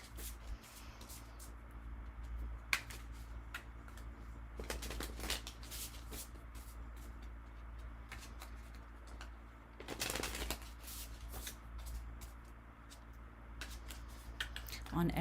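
Tarot cards riffle and slap together in several bursts of shuffling, close and crisp, with quiet pauses between.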